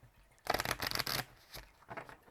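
A deck of cards is shuffled close by, with a loud riffling burst followed by a couple of softer flutters.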